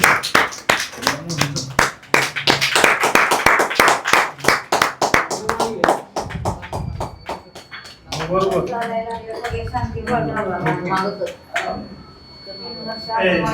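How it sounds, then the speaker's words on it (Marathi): A group claps in rhythm, loud and close, with sharp repeated hand claps in a hall setting, then voices talking and a faint tone under the later claps. "चला आपण सगळ्या टाळ्या वाजूयात"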